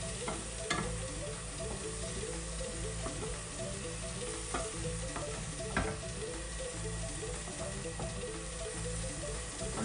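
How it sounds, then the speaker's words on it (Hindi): Ingredients for murgh do payaza sauté in a pan over a medium flame, a constant close sizzle with occasional stirring scrapes and a low steady hum beneath. "और इसको मैं सॉटे कर लूंगी"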